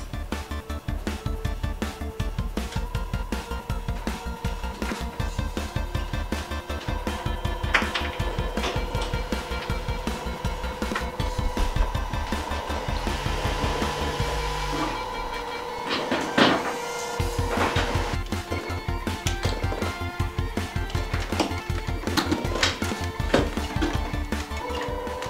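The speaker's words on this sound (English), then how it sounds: "you might be able to hear the rumble motor going in here" A steady, loud mechanical rumble from the vibration motor of a VR hoverbike simulator runs continuously throughout, with a brief disturbance midway and a fan-like wind noise underneath.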